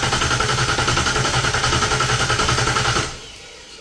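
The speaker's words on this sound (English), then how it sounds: "So you set up your gauge, come in, crank it over a few times." An engine cranks over on the starter for a compression test, giving a loud, even, rhythmic churning pulse close up for about three seconds before it stops and only a quiet hum remains.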